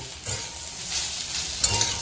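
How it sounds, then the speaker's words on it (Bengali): Snake gourd (chichinga) frying in oil, heard up close as a continuous soft sizzle with occasional scraping stirs and small spattering pops. "এটা চিচিঙ্গা ভাজা"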